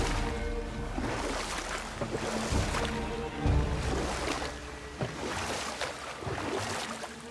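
In the video game God of War, a boat glides over sea water, a steady wash of lapping waves and splashing oar strokes in a soft rhythmic swell with faint wind, no talking.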